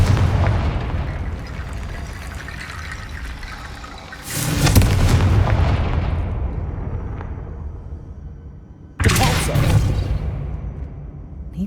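Two loud explosive blasts from Confringo spells in Hogwarts Legacy, the first about a third of the way in and the second near the end, each a sharp booming burst that slowly rumbles away over a continuous game background.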